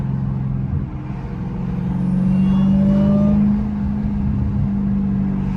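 A Dodge Hellcat on a drag pack drives with a loud, close engine drone and a steady high supercharger whine riding over it, rising slightly in pitch mid-clip as the car pulls.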